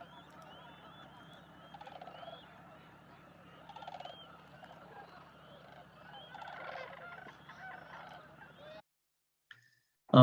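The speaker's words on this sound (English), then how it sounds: "You should be able to hear the sandhill cranes and some of the geese in the background here" A chorus of distant sandhill cranes and geese calls continuously, with rolling trills and honks layered over one another outdoors.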